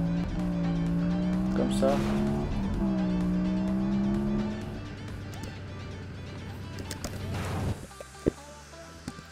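Engine of a car driven in the Roblox video game, a steady tonal hum holding for several seconds and then fading out, with a person talking over it.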